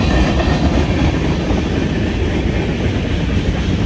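A Norfolk Southern freight train made up of coal and gravel hopper cars rolls steadily past close by, loud continuous wheel rumble and rail clatter filling the scene with no talk.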